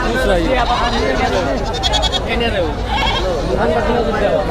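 Local deshi goats bleating at a busy cattle and goat market at Kalampur, with repeated bleats rising over a constant crowd babble and nearby voices.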